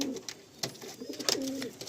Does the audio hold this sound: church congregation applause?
no